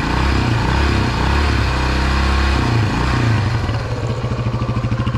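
A 1976 Honda XL175 motorcycle engine runs nearby, first holding a steady throttle with a deep thrum, then dropping back to a lumpy, pulsing idle with distinct firing beats.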